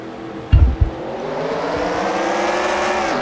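Race cars take the green flag at the start of an oval race, a sudden burst of engine roar that settles into a sustained, rising whine of several cars accelerating together, loud and close.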